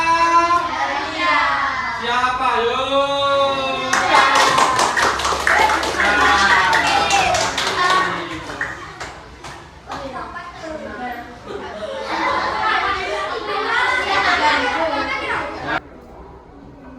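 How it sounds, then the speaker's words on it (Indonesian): Sixth-grade primary school pupils in a classroom break into bursts of rhythmic clapping, loud and close, mixed with excited children's voices and a teacher speaking between rounds. "Tepuk tangan."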